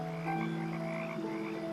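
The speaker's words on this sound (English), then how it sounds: "The sounds that you heard at the beginning of this video were frogs in a small pond" Frogs croak steadily in a small swampy pond, a dense chorus of overlapping calls that carries on without a pause and holds an even, moderate loudness throughout.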